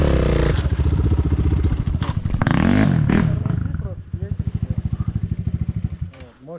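Electric dirt bike ridden through a forest, its motor whining and rising in pitch as it climbs, with rattles and scrapes from the rough trail, close and fairly loud, while people talk over it.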